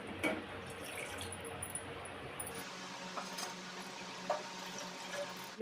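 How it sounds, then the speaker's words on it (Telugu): Water poured from a glass into a cooking pot while preparing baby food, a steady close splashing pour that runs for several seconds, with a few light clinks and drips and no talking. "తర్వాత ఇందులోకి 2 గ్లాసుల నీళ్లు పోసుకోండి"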